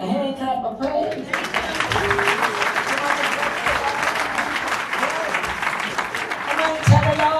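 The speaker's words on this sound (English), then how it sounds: "I want to give God a hand clap of praise." A church congregation breaks into a hand clap of praise, dense sustained applause beginning after a brief spoken opening, with a voice talking over the clapping.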